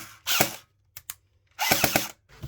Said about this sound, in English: I'm probably going to swap that motor out anyway because it sounds laboured